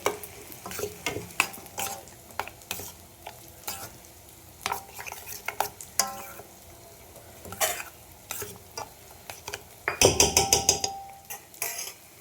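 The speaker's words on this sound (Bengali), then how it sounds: "এদিকে পেঁয়াজও ভাজা হয়ে গেছে" Onions frying in a pan with a spatula scraping and stirring in repeated strokes, soft sizzle underneath and a brief flurry of quick clinking metal knocks toward the end.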